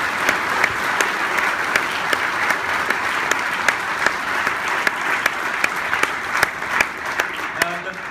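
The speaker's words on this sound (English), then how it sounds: "A big round of applause for BAFTA," Audience at the BAFTA Game Awards 2015 applauding, a dense steady burst of clapping lasting several seconds, loud and close with no talk over it.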